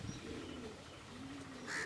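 Pigeons in a caged loft give low, soft cooing calls in two drawn-out phrases, with a faint chirp near the end over steady background hiss.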